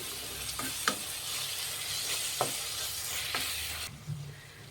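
A tomato masala with chili powder and spices fries in a pan with a steady close sizzle, while a spoon stirs and scrapes the pan in a few brief strokes, with no talking.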